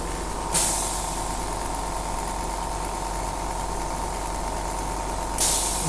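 A homemade DIY oxygen concentrator runs steadily after nearly an hour, giving a constant mechanical hum and drone with a sharp hiss of released air near the start and again near the end, no voices.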